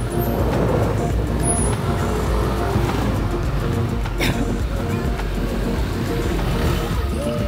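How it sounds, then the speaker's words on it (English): Steady, dense road traffic in Bali, with cars and buses rumbling close by in a continuous wash of engine noise and occasional higher whines, with no break throughout. "Traffic."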